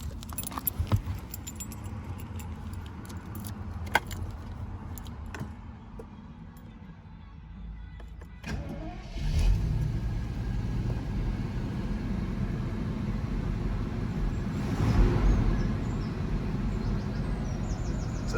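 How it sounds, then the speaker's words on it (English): Keys jangle near a 1985 Jaguar XJ-S with a 5.3-litre V12. Partway through, the engine catches and settles into a steady, moderately loud idle rumble. "So I'll just start it up and we'll have a listen under the bonnet and round the back."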